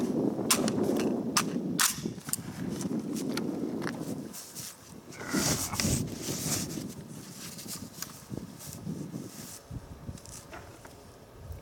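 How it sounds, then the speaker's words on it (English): An Armalite SPR Mod1 AR-15 rifle in 5.56 fires on an outdoor range, sending several sharp cracking reports at irregular intervals over wind noise and handling sounds. "So we're gonna put a few rounds down range with this thing"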